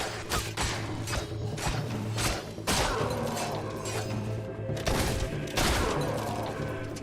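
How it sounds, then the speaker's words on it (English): Repeated pistol shots in Fable 2, sharp reports spaced irregularly among clattering combat noise and a steady game background. "this pistol's putting in some work"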